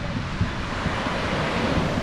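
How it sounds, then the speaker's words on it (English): Ocean surf rolls in on the coast south of Puerto Vallarta near Boca, a steady loud wash of breaking waves blended with heavy wind buffeting the microphone, no voices. "A few waves coming in."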